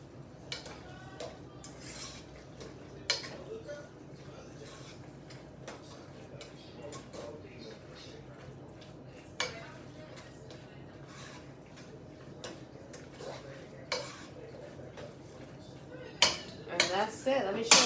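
A spoon scrapes and clatters in a pot as a vegan chickpea mushroom pasta mixture is stirred, irregular metallic knocks over a quiet bed, ending in a louder flurry of clanks.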